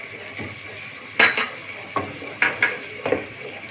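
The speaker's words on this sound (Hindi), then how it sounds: "ये इसमें शामिल कर देंगे और इसको अच्छी तरीके से हिला लेंगे" Spoon stirring green chili paste into sautéed ginger and garlic in a pan, a series of sharp metallic clinks and scrapes against the pan over a faint background sizzle, close by with no talking.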